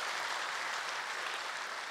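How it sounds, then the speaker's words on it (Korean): Worship congregation at the 2018 Torch Korean Diaspora World Mission Conference applauding in thanks to God, a dense, even roar of many hands clapping at once, sustained without a break. "하나님께 저희가 다시 한번 감사의 박수 올려드리고 싶습니다."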